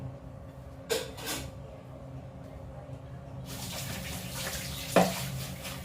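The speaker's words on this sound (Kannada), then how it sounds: "ನೀರು ಬಾಟ್ಲುಗಳನ್ನು ತೊಳಿತಾ ಇದ್ದೀನಿ" Water bottles are rinsed under a running tap, a steady hiss of flowing water swelling and splashing, with a couple of brief clatters as the bottles knock about, close by and with no talking.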